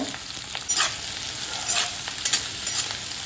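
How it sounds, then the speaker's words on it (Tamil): Bottle gourd, shallots and garlic sautéing in hot oil give a close, steady sizzle with rhythmic scraping stirs of a spoon through the pan, heard alone. "சுரக்காயோட பச்சை வாசனை போகிற வரைக்கும் வதக்கிங்க"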